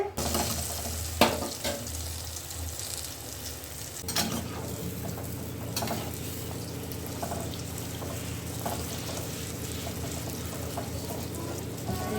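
Green pea kachoris fry in hot oil in a kadai, a dense, steady bubbling sizzle that holds at the same level throughout, broken now and then by a few sharper scraping clicks, with no talk over it.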